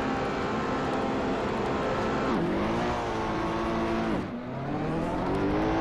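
Race car engines on the Red Bull Ring in Assetto Corsa, a loud continuous roar that climbs through the gears and drops sharply on two gear changes or lift-offs, with several cars running close together.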